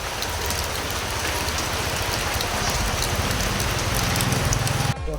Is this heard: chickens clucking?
no